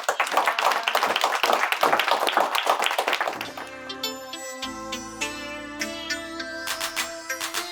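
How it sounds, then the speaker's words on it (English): A burst of audience applause for a few seconds, then fades into soft music with light tapping. "give yourself all a round of applause for showing up"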